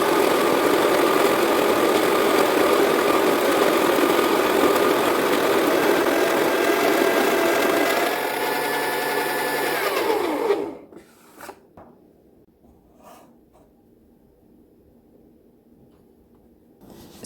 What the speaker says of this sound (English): Grind your coffee beans.